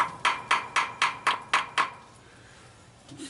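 Seven evenly spaced metallic taps on a stuck part of a 1963 Ford Falcon, sharp and close, followed by a quiet pause.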